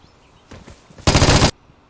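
Gunfire in the video game Vigor: a faint, soft shot or two, then a loud, sharp burst of rapid automatic fire lasting about half a second before cutting off into quiet.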